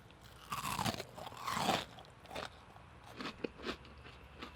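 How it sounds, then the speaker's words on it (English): Crispy fried onion rings fresh off a griddle are bitten into, giving a few close crunching bites followed by quieter chewing, with no speech. "Check out how crispy these are."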